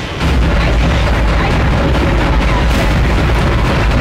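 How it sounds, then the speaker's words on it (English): Explosion as an object strikes the ship in the Dead Space video game, a loud sustained roaring blast with heavy low rumble and debris filling several seconds. "it looks like it just hit us and blew up"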